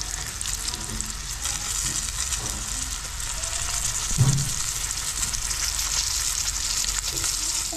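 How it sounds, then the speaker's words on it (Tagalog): Dried fish (tuyo) and eggs frying in a pan, a steady close hiss of hot oil with a brief clatter partway through. "Ayan, luto na ulam natin guys. Pinritong tuyo at saka itlog."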